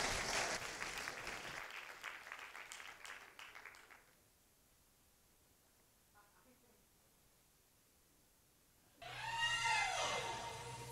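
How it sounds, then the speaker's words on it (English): Audience at an MBA talent show at HEC Paris claps loudly for a performer, the burst fading into a quiet stretch before another swell of loud crowd noise with music returns. "Please give him a round of applause"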